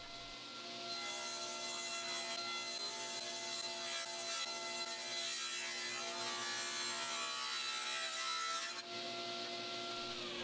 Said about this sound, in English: at the table saw, I could proceed to cut it down into a series of strips.